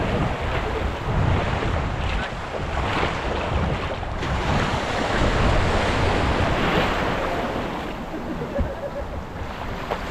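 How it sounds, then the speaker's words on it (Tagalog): Strong ocean waves surge and crash at a beach in a continuous loud roar, with heavy wind buffeting the microphone. "Ano, lakas ng alon."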